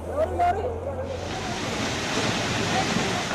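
Surging floodwater sweeping through an area, a broad continuous rushing roar of moving water with wind-like noise, fairly loud and unbroken, with a low hum and faint tones at the start.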